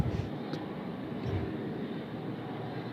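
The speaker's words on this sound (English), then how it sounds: "747 BCF, the Boeing converted freighter variant." A Boeing 747-400 BCF converted freighter passes at Sydney Airport with a steady, broad jet engine roar that holds evenly throughout, moderately distant.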